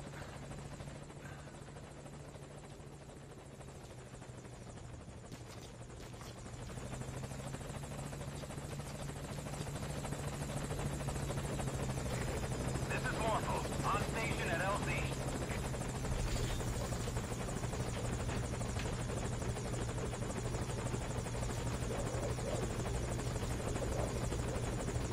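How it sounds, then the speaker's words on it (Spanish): A helicopter arrives in the video game Metal Gear Solid 5: Ground Zeroes, a steady rotor drone and engine hum that grows louder and fuller as it draws near, holding loud and unbroken with no talk. "aquí está el helicóptero,"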